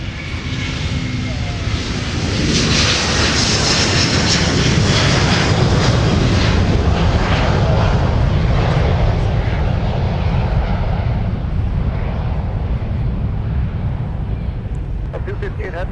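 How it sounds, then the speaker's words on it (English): A heavy Airbus A330 jet roars down the runway on departure, a loud, sustained engine rumble that swells and holds for the whole stretch before easing slightly at the end. "departing heavy Airbus 330, winds 2408, runway 30 left of the line"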